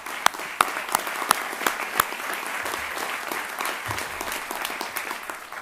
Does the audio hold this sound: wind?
no